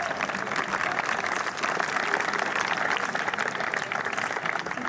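A hall audience gives sustained applause for the Narbonne Volley team, the Centurions, a dense and even roar of clapping that stays loud and steady throughout with no distinct voices.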